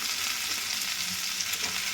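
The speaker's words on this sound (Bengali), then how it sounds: "এবার একসাথে ভালো করে ভাজবো।" Sliced eggplant frying in hot oil in a pan for begun sundori, a continuous close sizzle with faint stirring scrapes, no voices.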